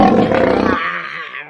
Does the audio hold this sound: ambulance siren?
no